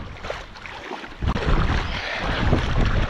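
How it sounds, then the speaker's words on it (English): Wind gusts across a crowded beach at Perlubie Beach, South Australia, as a loud, broadband roar that surges stronger after the first second and stays steady. "Sorry about the wind"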